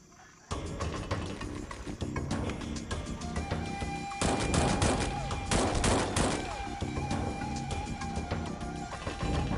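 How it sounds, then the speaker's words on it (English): Dense, continuous video-game gunfire from Xpiratez, a rapid fusillade of overlapping shots and bursts starting abruptly and running steadily loud throughout, with heavier crashing volleys midway and no talk. "So many bullets."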